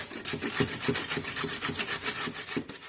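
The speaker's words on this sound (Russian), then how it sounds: "Затем натираем морковку" Rhythmic rasping strokes of a carrot rubbed against a coarse grater, fast and steady, close up with no talking.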